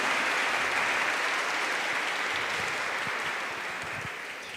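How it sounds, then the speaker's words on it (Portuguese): Audience in a church hall applauds after a talk on a parish church's architecture and art, a steady, dense wash of clapping that gradually fades over a few seconds, with no voices over it. "Então vamos saudá-lo com as nossas palmas."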